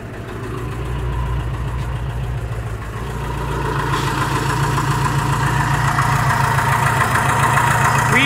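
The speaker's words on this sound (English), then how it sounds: "I might have to adjust my idle." Carbureted engine idles steadily nearby, a low rumbling throb that grows slightly louder and busier partway through, with no voices heard.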